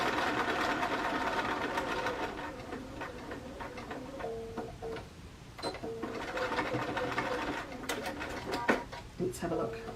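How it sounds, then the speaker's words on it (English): A sewing machine stitches quilt seams for precision piecing, its steady rapid mechanical whir running nearly throughout, briefly slowing and restarting, with small clicks of handling. "I might need to re-sew some of the seams on my pieces."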